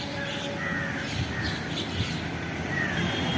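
Crows and kites feeding on grain together call over a busy outdoor hum, with scattered caws and shrill cries at moderate distance.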